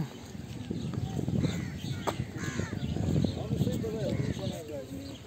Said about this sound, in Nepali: यो रुखमा कागहरू आएको दृश्य मैले कैद गरिरहेको